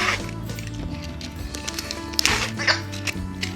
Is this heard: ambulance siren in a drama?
no